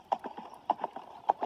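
Hooves of a horse being ridden in an arena during exercise before 90 cm jumping work, sounding as a steady, close clip-clop rhythm of sharp strikes, about three to four per second, with no talk over it.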